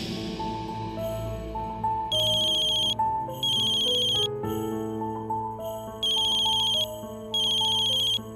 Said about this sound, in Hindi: अगर तुम्हारे फोन पर मीनाक्षी का फोन आए तो तुम वो फोन नहीं उठाना, वो फोन ओम ही उठाए।